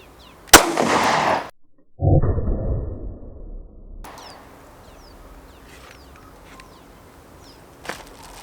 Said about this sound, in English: Let's see what happens when I put a 9mm shot through the same amount of bread